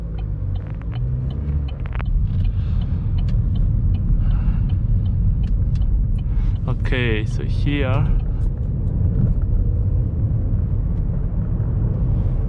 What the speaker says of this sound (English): you're gonna get this car onto the motorway, nice and slow, and we're gonna get it to 70 miles an hour.